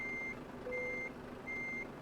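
Reversing beeps from a Volvo 750 6x4 truck in Euro Truck Simulator 2, three evenly spaced high electronic tones over a low engine hum.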